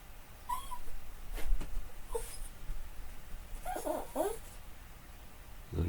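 A dog whimpers in short, thin, high whines, faint and scattered across the stretch over a low background rumble, with no one speaking.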